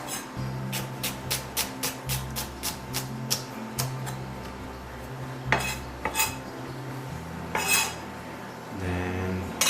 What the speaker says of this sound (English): We cut the onions now.